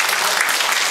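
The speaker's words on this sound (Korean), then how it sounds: "큰 박수로" A brief burst of dense audience applause at a formal inauguration ceremony, loud and continuous with many hands clapping together.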